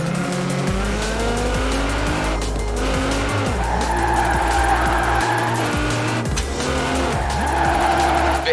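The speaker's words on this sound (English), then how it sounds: "A bit of speed, turn in, feather the e-brake as you hold the accelerator" A car drifts in the video game Forza Horizon 4, its tires squealing loudly over a steady, roaring engine that holds and shifts pitch through the slide, with no talking.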